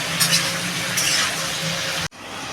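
Pieces of papaya frying in a pan with salt, a steady loud sizzle close by that cuts off abruptly near the end.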